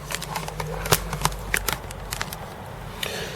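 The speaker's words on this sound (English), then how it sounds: "So I'll take the card back out." An expansion card is worked out of an Amiga A4000 motherboard slot, giving a quick run of close plastic clicks, scrapes and rattles with small sharp ticks scattered over a few seconds.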